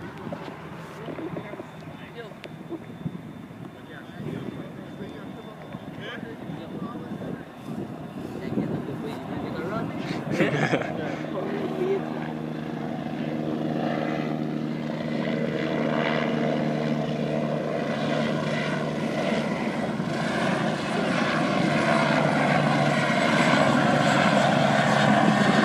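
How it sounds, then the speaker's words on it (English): A helicopter comes in toward a ramp at an airfield display of vintage warbirds, its engine and rotor drone swelling from faint to loud and steady, with people talking over it. "Let me look at this helicopter here coming in there."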